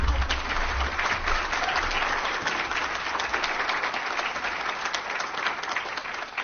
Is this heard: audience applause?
yes